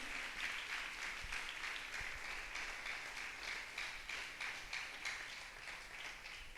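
A church congregation claps together in a dense, sustained round of applause that stays fairly even throughout, heard at a moderate distance.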